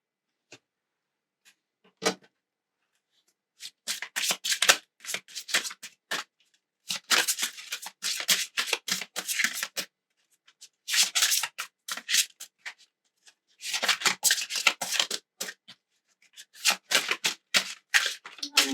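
Tarot cards are shuffled in quick, papery bursts of riffling and rubbing, close and fairly quiet, separated by short silent pauses, with no talk.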